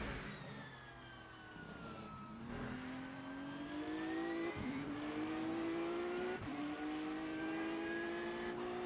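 Race cars including a BMW lapping COTA in Le Mans Ultimate, a steady engine drone with rising revs through the gears and quick shift dips, close and loud without talk.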